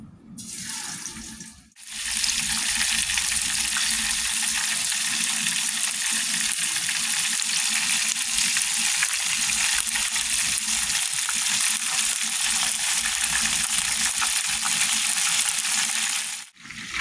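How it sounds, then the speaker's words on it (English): Chicken drumettes with the wings tucked behind them sizzle and crackle loudly in a deep fryer, a dense, steady hiss that starts abruptly after a brief pause and holds evenly for about fifteen seconds before cutting off. "I'm going to go ahead and drop these bad boys in the fryer."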